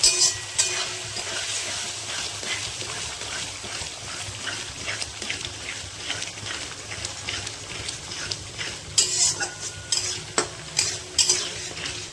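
Chhana cottage cheese fried and stirred into a spiced masala in oil, with a steady sizzle under repeated scraping and clinking stirs that grow sharper toward the end.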